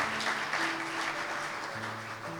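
A church congregation claps hard and steadily for a couple of seconds, a dense roomy applause with faint sustained tones underneath.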